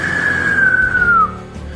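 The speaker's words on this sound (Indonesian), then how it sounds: "Satu suitan nyaring seperti menembus langit di atas rimba belantara gelap itu." A single shrill whistle in a dark jungle scene, a clear steady tone that slowly slides downward for about a second before cutting off, set over a low background bed.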